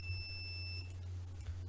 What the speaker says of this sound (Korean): 부저에서 지금 1초 동안은 삐 울리고 1초 동안은 이제 꺼지는, 그래서 1초마다 삐삐 울리는 이제 코드를 만들었어요